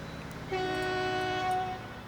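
A train horn sounds once in the railway game Transport Fever, a steady sustained tone lasting over a second over a low background rumble, with no talking.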